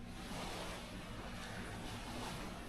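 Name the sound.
lake water lapping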